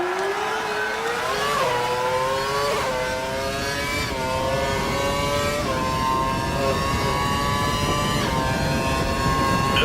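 A Formula One car in the F1 2012 racing game accelerates hard, its high engine note climbing repeatedly and dropping at each gear change.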